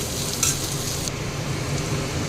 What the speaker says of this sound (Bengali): এই যে এখানে সব দিয়ে দিয়েছি দেখো ঘি গরম মশলা চিড়ে নুন মিষ্টি এবার এটা ভালো করে নাড়াচাড়া করব একটু ভাজা ভাজা করে নামিয়ে নেব